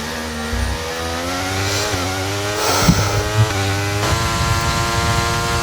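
Formula 1 car engine in a racing video game during early laps of a two-player career race, a loud sustained buzzing engine note with harmonic pitch that climbs and shifts through gear changes, steady and close with no talk.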